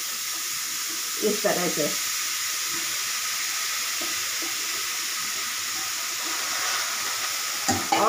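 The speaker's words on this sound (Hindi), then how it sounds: "घी गर्म होने पर इस गाजर को, कद्दूकस किए हुए गाजर को कढ़ाई में डाल देंगे" Grated carrots sizzle in hot ghee in a kadai, a continuous bright hiss of frying with occasional stirring clatters while a voice speaks briefly.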